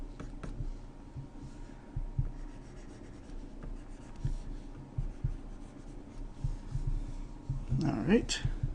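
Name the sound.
pencil drawing trim on medieval armour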